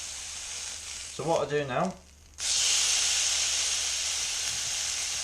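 Venison loin sears in a hot pan, and after a short spoken remark a loud, steady, continuous sizzle takes over and holds strong to the end.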